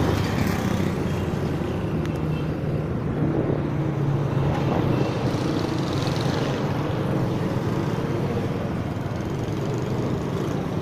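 A motorcycle ridden outdoors on a muddy, wet road, giving a steady low engine drone mixed with heavy wind rumble across the mic, continuous and unbroken for about ten seconds.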